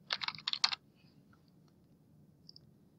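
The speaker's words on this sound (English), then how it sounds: "start typing in the title and it will start autofilling for me" Quick bursts of typing on a computer keyboard, a tight cluster of crisp clicks lasting under a second, followed by near silence with a couple of faint isolated taps.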